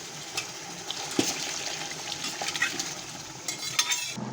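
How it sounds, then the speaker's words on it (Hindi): Boiled mutton going into fried masala in a cooking pot for Muharram khichda: scattered clinks of a metal spoon against the pot, a soft sizzle and wet stirring, with a sharper knock or two, no talking. "अब ये मसाला भुनने के बाद क्या करेंगे, बॉईल किया हुआ मटन छोड़ देंगे।"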